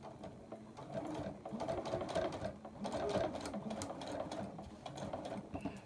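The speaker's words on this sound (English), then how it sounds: "Now, all I want to do is straight stitch. I'm on a different machine now. Foot down. Straight stitch." A sewing machine runs a straight stitch in quick rhythmic bursts of mechanical whirring, close and fairly quiet, with brief pauses between the runs.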